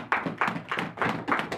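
A church congregation claps in a steady rhythm, five crisp, evenly spaced beats of many hands sounding together, fairly close and without talk.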